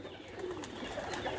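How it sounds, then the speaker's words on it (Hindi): Pigeons coo softly on a rooftop, faint and steady against a low background hum, with no voices. "इधर से कबूतर उड़ते हैं"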